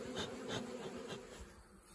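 A honeybee swarm being shaken into a top-bar hive fills the air with a dense, continuous buzzing hum, close and steady throughout, with no voices.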